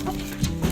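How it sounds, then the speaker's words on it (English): Chickens fighting give off dense, close clucking and squawking over a continuous noisy farmyard background, with a couple of louder accented calls. "chicken fight."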